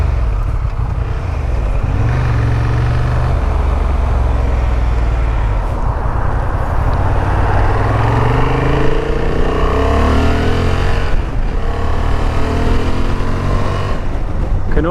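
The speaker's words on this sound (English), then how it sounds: "Straight away the engine's got a really nice growl to it." A Honda Transalp 750 motorcycle engine revs and growls up through the gears, the pitch climbing and falling in repeated sweeps, loud and close with no talking.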